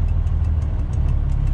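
A truck engine idles steadily before a test drive on the road, a low continuous rumble with a faint rhythmic knock, close and alone without talk.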